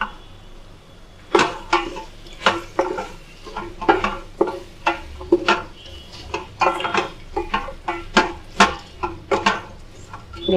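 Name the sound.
vegetables (beetroot, carrot) frying in a pan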